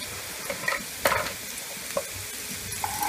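Onion, green chili and ginger-garlic paste fry in a pan for an Indian broccoli bhaji, a constant close sizzle with spatula scrapes and light taps, and no talking.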